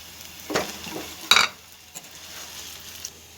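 Potatoes tipped into a pan of browned ground onion, garlic and ginger during village-style home cooking: two clattering thumps against the pan, then a faint, low sizzle.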